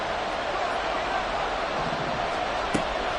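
The crowd at Arrowhead roars in an American football video game, a dense, loud and steady wash of noise that fills the whole stretch, with one sharp thump near the end.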